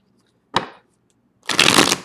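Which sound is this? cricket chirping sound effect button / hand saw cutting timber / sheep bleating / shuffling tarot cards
shuffling tarot cards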